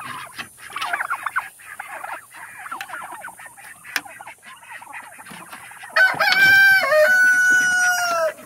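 A noisy flock of turkeys clucks and calls in overlapping bursts, then a loud, sustained honking crow-like call rises clearly above the rest near the end.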